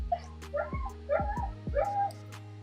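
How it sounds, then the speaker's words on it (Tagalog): A dog barks and yips in a quick series of sharp, high-pitched yelps close to the microphone, four or five bursts over a couple of seconds, with no one talking. "Iingay ng aso."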